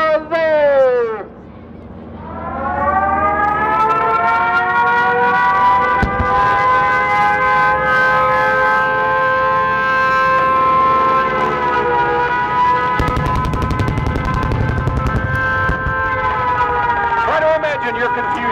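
Air raid siren wailing at a Pearl Harbor attack reenactment air show, loud and sustained for most of the clip, its pitch sweeping up from a low start and holding steady, with rumbling engine noise underneath.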